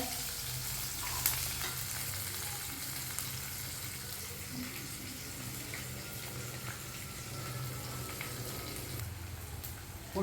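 Onion and curry leaves frying in a pan for a brinjal mutton gravy, a steady broad sizzle that runs unbroken and close throughout, with faint stirring.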